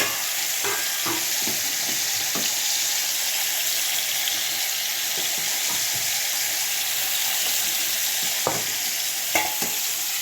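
A thick fish is cooking in a pan, giving a steady, close sizzle of frying oil with light scraping and clinks of a utensil throughout.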